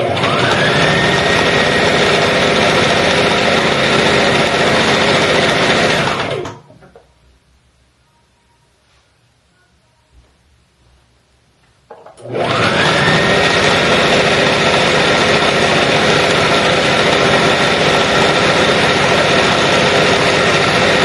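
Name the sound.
sewing machine stitching an abaya hem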